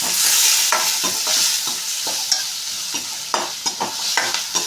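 Close, continuous frying hiss as something cooks in a pan with turmeric and salt for Maggi noodles, broken by frequent scraping stir strokes and light clatter, no voices.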